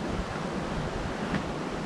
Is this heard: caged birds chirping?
no